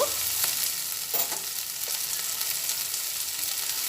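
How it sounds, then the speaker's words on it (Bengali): Spices sizzle and fry steadily in a pan while cooking a curry with bottle gourd peel koftas, a continuous crackling hiss with a few light stirring scrapes, close and fairly loud, no voices. "সব একসঙ্গে ভেজে নিচ্ছি"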